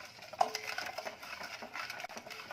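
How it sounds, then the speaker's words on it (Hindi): Paan sharbat syrup is stirred in a pan over a low-medium gas flame, with soft scraping and light clinks of a spoon against metal, faint and close. "लगातार स्टर करेंगे और इसे थोड़ा गाढ़ा होने तक पका लेंगे।"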